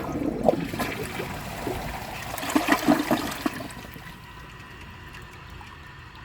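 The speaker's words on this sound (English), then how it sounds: "So let's give this a flush and see how it does on tests." An AquaSource one-piece toilet flushing with its original flapper and the water set to the marked level: a close gurgling whoosh that swells over a few seconds, then tapers into a quieter refill trickle.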